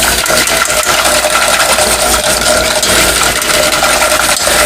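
A whisk clinks and scrapes quickly against a bowl while mixing a colorful champagne jello shot mixture, a loud, close, rapid metallic rattle that carries on without a break and with no voices.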